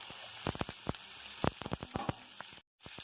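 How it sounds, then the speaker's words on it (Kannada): Okra and tomato hit a hot pan of popping mustard-seed tempering, giving a close, crackling sizzle with sharp spits and pops across a few seconds before a sudden brief cut. "ಈಗ ಇದನ್ನ ಬೆಂಡೆಕಾಯಿ ಮತ್ತು ಟೊಮೆಟೊಕಾಯಿ ಹಾಕೊಂಡ್ತೀನಿ."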